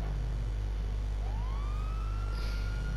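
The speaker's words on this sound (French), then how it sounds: "en l'air, par contre, c'est plein de sirènes" A police siren in the GTA role-play video game rises and wails over a heavy low engine hum, a single faint distant tone sweeping upward and holding.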